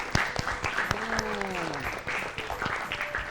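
A crowd applauds a correct quiz answer in a children's classroom show. The clapping is dense and steady throughout, with a brief gliding tonal sound effect rising over it partway through.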